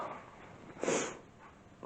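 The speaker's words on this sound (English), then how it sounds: "Sorry for sniffing, guys." A single short sniff up close, a quick breathy intake through the nose in otherwise quiet surroundings.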